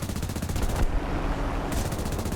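Sustained machine gun fire in an aircraft combat video game, a dense continuous rattle of rapid shots from a distance that runs through nearly the whole stretch with a brief shift in tone midway.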